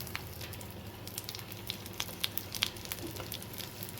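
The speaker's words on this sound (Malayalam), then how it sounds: "ആ ശർക്കരയാണ് ഇട്ട് കൊടുക്കാൻ പോകുന്നത്" Jaggery goes into a chutney frying in a pan, bringing steady close sizzling and crackling with scattered sharp pops and spatters.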